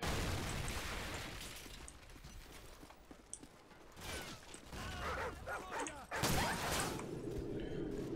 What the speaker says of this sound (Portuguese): Explosão de um barril.